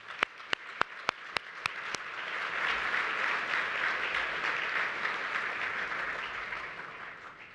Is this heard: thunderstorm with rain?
no